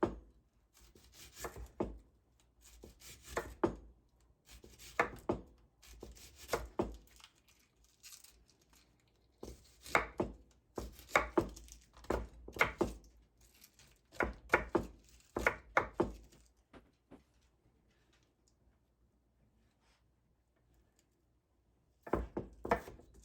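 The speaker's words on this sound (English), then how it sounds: "I'm gonna do about a 1/4 inch dice on a red onion." Knife dicing a red onion into quarter-inch pieces on a cutting board set on an uneven surface, giving bursts of rapid, close, dry chops separated by pauses.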